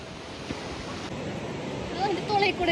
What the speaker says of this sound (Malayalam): തെര വരട്ടെ, തെര വരട്ടെ